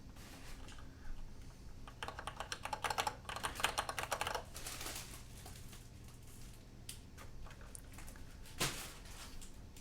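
Someone types on a mechanical keyboard, close and clear, with quick bursts of key clicks and clacks in uneven runs, then pauses and a few scattered presses, and no talking.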